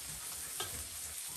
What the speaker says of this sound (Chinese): 用这个菜油炸一下。